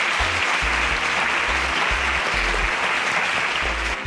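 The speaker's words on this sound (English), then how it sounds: "A round of applause." An audience at a Nigerian competition show applauds, steady dense clapping that stays even and fairly loud from start to finish.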